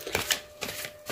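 Tarot cards being shuffled by hand, a few quick papery riffles and flicks in short bursts, close and moderately loud, with no voices.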